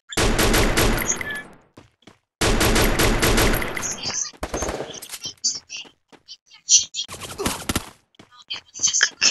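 Rapid bursts of video game gunfire hit the player, loud sustained volleys alternating with short gaps and scattered single shots, with some talk mixed in.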